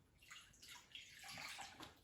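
Warm water poured into a bowl for bread dough, a soft close stream splashing and swirling for about two seconds, quiet and alone.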